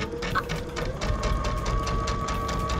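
A sewing machine stitches a quarter-inch quilt seam with the presser foot lowered, a steady close mechanical whir with rapid needle ticks running continuously throughout.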